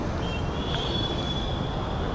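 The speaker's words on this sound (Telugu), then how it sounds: "ఇక్కడ ఒక ట్రైన్ వెళ్తుంది" A train rolls past on a rail journey out of Hyderabad, with a steady close rumble and a thin, high wheel squeal running through, and no one talking.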